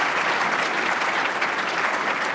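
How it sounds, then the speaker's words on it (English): Applause for new members at an induction ceremony during an annual meeting, a dense, even wash of crowd clapping, loud and continuous for the whole short stretch. "Another round of great applause for all the new members."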